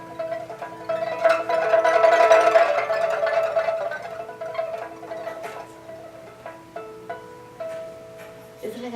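A Chinese pipa plucked in a rapid tremolo imitates flowing water, a shimmering run of bright notes that swells and fades, followed by sparse plucked notes, played close with no talk.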